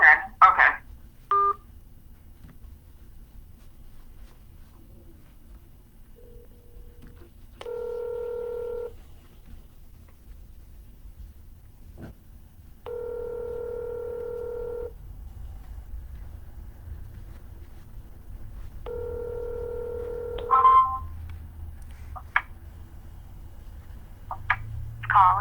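A phone call is placed back during a real estate cold call, with bursts of touch-tone dialing and repeated ringback tones sounding in a quiet line, then a voice on the phone near the end.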